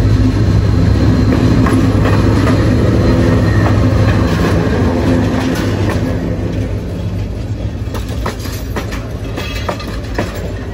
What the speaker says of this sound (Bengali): আমাদের পাশ ঘেঁষে ট্রেনটি যাচ্ছে এখন, এই তো ট্রেন চলে এসেছে